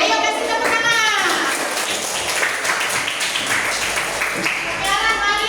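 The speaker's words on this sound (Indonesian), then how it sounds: "Ayo kasih tepuk tangan." Schoolchildren in a primary school classroom clap their hands together in a loud, dense burst that lasts throughout, mixed with children's voices and a few thumps.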